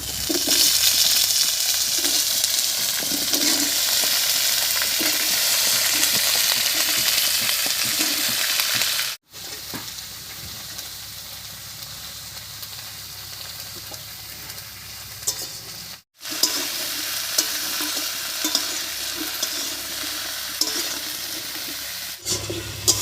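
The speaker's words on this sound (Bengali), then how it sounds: "ফোরনের উপরে সবজিগুলো দিয়ে একটু নাড়িয়ে নিয়েছি" Cut potato, beans, eggplant and onion frying in hot oil with spices in a pan, a loud continuous sizzle with scraping stirs, broken by two short silent cuts before the sizzling resumes.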